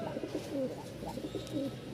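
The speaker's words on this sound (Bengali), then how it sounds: "দেখেন রাজশাহীর অরিজিনাল ডাক।" A green-coloured male pigeon of the original Rajshahi breed coos repeatedly in low, rolling pulses, close and moderately loud, with no talk over it.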